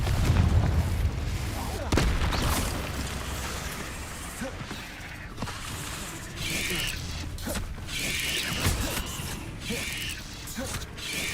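Incendio and Confringo spell blasts from Hogwarts Legacy, a string of loud whooshing bursts and crackling impacts with mechanical clanks, repeating irregularly over a busy game backdrop.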